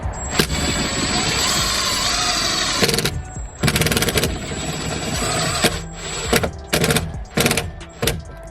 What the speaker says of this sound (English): Line it up and then screw it in.